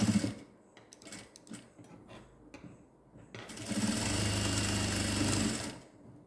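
A sewing machine stitches a newborn baby gown in a short, steady whirring burst of about two seconds, preceded by quieter handling clicks and rustles.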